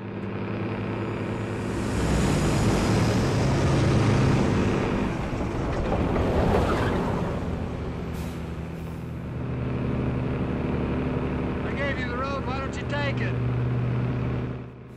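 A pursuing truck and a car from the 1971 film Duel rumble and roar on the road, engine noise rising and falling under steady spoken narration, with brief higher tonal bursts near the end.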